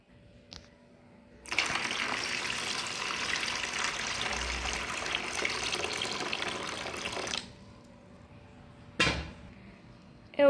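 Water gushes steadily from a tap into a tub for soaking clothes for several seconds, then stops, followed by a brief splash.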